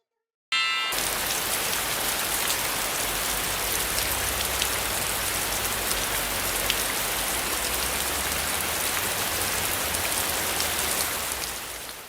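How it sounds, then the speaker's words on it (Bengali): Light drizzling rain in an animated cartoon, a dense, even patter of drops that starts abruptly and holds steady and fairly loud, with no voices, before easing off slightly at the end. "বাইরে ঝিরঝির বৃষ্টি"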